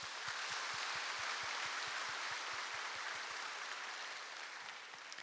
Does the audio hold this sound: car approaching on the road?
no